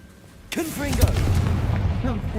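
A Confringo blasting spell in Hogwarts Legacy goes off with a sharp, booming impact followed by crackling, rumbling debris, loud and near, with a voice speaking over it.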